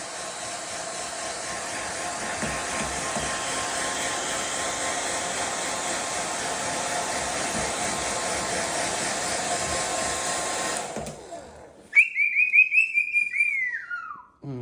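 A blow dryer runs with a steady, loud whirring rush for about eleven seconds and then cuts off, followed by a bird's high whistling chirps.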